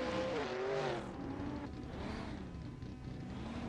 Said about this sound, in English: someone's revving their engine like crazy, man